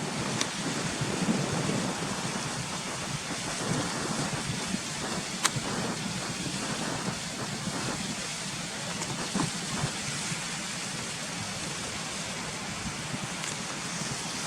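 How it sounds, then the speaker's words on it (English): Fast-flowing hillside stream tumbling over several rocky steps as a waterfall, a steady, dense broadband rush of water filling the whole clip at close range with no talk. "you can see the waterfalls coming down there now, look"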